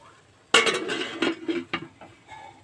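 A metal lid clanks down onto a pan of peas cooking in masala, a sharp clatter followed by a few lighter rattles and clinks as it settles, then quiet.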